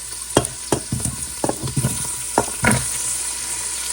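Potatoes sautéing in a pan for corned beef nilaga: a series of close spatula scrapes and stirring knocks over a constant sizzling hiss, loud and irregular.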